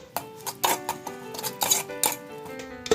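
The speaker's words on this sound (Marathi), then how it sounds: "आता हे छान मसाले सगळे परतून घेऊया" Spices are sautéed in a pan, and a utensil scrapes and clinks against the metal in quick irregular strokes, up close, with no talk and little audible sizzle underneath.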